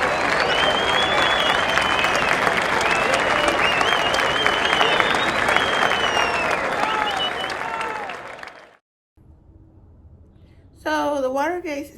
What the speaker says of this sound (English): So let's give it a big old clap to Mr.